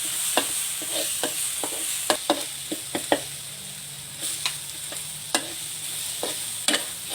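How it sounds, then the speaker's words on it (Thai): Chillies being stir-fried in a pan for holy basil liver stir-fry, a soft continuous sizzle punctuated by sharp scrapes and clacks of a spatula against the pan at irregular intervals. "ตามด้วยพริกที่กรอกเสร็จแล้ว ผัดให้หอมเหลืองค่ะ"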